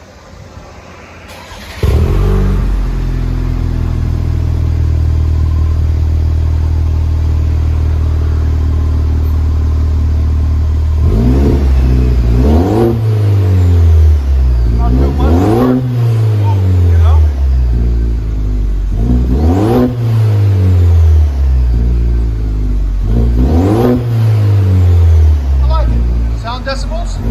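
A loud Chevy Silverado 2.7L turbo pickup engine with its muffler removed cranks to life and idles roughly, then revs hard in repeated throaty bursts that rise and fall, close up, near 100 decibels.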